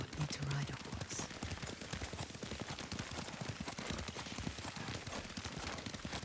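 Hooves clip-clop at a steady rapid gallop as a horse is ridden in the game Ghost of Tsushima. The hoofbeats run continuously under spoken dialogue and ambient game sound.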